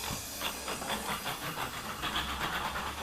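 Balloon-powered toy car letting its air rush out, a steady broad hiss with faint fluttering pulses, continuous and close throughout.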